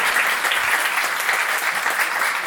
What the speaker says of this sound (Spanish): un aplauso acá para nuestra chef invitada